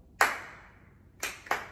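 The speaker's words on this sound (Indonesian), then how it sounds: "Tepuk tangan dulu dong." Three sharp hand claps on a TV show set, one then a pause followed by two quick ones, each ringing briefly with a metallic echo in a quiet room.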